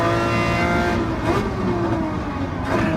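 A race car in a racing video game roars steadily at high revs with a sustained, loud engine drone, easing slightly in pitch as it brakes through a section, with no speech over it.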